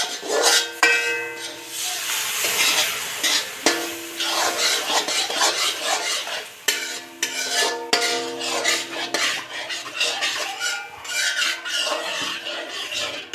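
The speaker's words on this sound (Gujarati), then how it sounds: "હલાવી રાખવાનું" A spoon scraping and rubbing around a metal pan as a thick mohanthal mixture is stirred with milk, giving repeated rasping strokes with occasional clinks and irregular pauses, close and clear with no talking.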